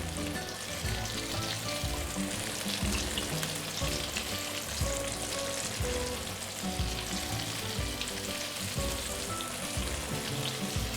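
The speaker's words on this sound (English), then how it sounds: "Just slowly deep fry for 2-3 minutes." Seafood tofu pieces deep frying slowly in oil, a dense, steady bubbling sizzle that stays loud and even throughout, with no voices.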